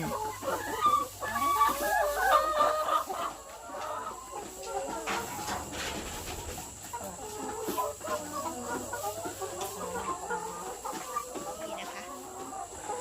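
Laying hens clucking in a coop bedded with straw: many birds cluck and chatter close by, loudest at first, then a steadier flock murmur with occasional sharper calls.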